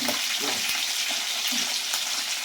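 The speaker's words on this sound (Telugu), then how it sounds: "బాగా కుట్టుకుంటూ ఫ్రై చేసుకోవాలి మంచి కలర్ వచ్చే వరకు ఫ్రై చేసుకోవాలండి" Chicken feet sizzle in hot oil in a pan, a steady, loud, bright hiss of frying that runs without a break, with faint stirring noises and no talking.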